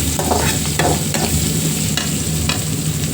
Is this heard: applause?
no